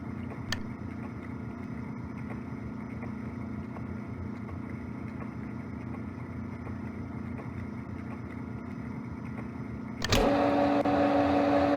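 A workshop machine hums steadily at low level, then switches on near the end with a sudden louder, tonal motor whine that keeps running.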